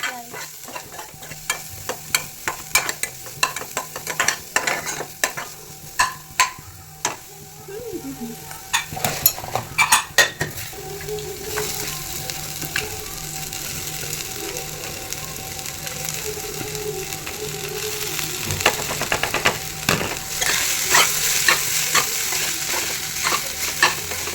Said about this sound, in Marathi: सॉटे करून घेऊया